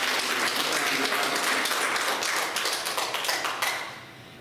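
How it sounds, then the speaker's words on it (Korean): A church congregation applauds steadily, dense clapping filling the room before tapering off toward the end. "하나님 앞에 먼저 감사의 박수를 올려드리도록 하겠습니다"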